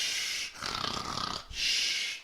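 A person imitates snoring: two long, loud rasping inhaled snores separated by a brief breathy exhale, up close with no other sound.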